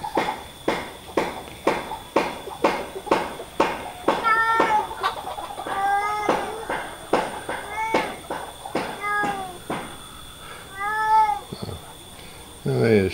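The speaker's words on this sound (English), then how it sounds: "Oh, there's Shouty Cat." A loud cat yowls repeatedly in rising, wavering meows at a chook shed, mixed with steady rhythmic clucking and footsteps from chickens nearby.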